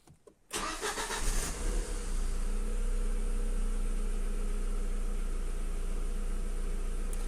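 Audi A4 B5 with a 1.6 petrol engine starts after a short pause, then settles into a steady, close idle with a faint uneven hint of a possible misfire, no voices present.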